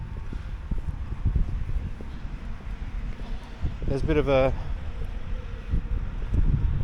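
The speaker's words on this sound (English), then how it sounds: "hopefully you can hear me because it's very windy." Strong outdoor wind buffets the microphone in a steady low rumble throughout, with someone talking over it at a building site with bollards, conduit and lighting being installed.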